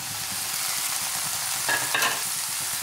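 Cut tofu tipped into a frying pan for tofu matar masala, a steady close sizzle with brief stirring scrapes and a couple of louder crackles toward the end.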